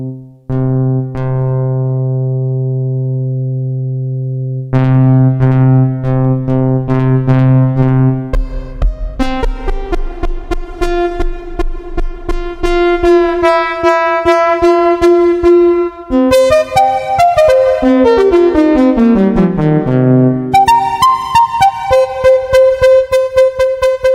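Electronic tones from an Erica Synths Steampipe modular synthesizer, pitch sweeping and wobbling under LFO modulation, shifting through several sustained and pulsing patterns, loud and continuous.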